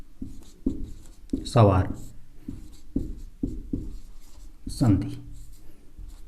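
A marker or chalk taps and scratches on a board in short strokes during a Hindi grammar lesson, several brief scrapes spaced between and under a teacher's steady speech.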